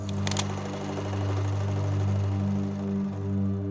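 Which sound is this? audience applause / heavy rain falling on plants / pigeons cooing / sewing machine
sewing machine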